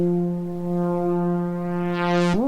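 Synth lead patch called Interference from an Arturia CZ plugin, a steady buzzy sustained tone that holds one pitch, then sweeps brighter and jumps up near the end, played alone.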